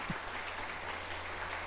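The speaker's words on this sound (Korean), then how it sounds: "다시 한번 뜨거운 박수 보내주시면 감사하겠습니다." Church congregation applauding at an Easter Sunday service, a faint, steady spatter of clapping that carries on evenly from start to finish with no voices over it.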